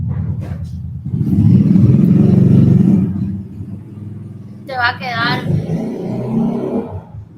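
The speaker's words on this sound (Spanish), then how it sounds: "Dejo que se vaya la moto y hablo" A motorcycle rumbles past outdoors, rising loud and close for a couple of seconds and then fading away, while someone speaks briefly at the start and again after it passes.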